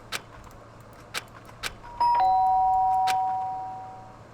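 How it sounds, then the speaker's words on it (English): Electronic doorbell chime in the video game Danganronpa, a bright two-tone ding-dong that rings out and fades, following a few soft taps over a quiet low hum. "The sharp sound of the doorbell pierced my sleepy haze and pulled me back to the real world."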